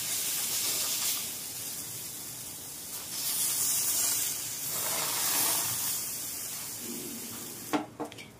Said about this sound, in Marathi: मध्यम गॅसवर आता बेटर टाकून घेणार आहे